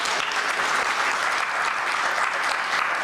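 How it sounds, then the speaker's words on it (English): Steady audience applause at an alumni reunion anniversary event, a brief, even wash of many hands clapping at a moderate, constant level. "give her a huge round of applause"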